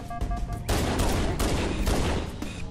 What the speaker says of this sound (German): Ich muss weiter auf ihn schießen